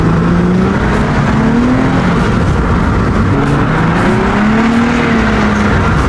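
A car drifting sideways at a local spot, tires skidding with a loud continuous squeal that rises and falls in pitch over a steady engine roar, close and sustained throughout with no talk.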